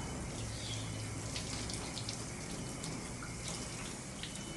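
Steady running water from a tap pours in a constant, even hiss, fairly close, with no voices over it.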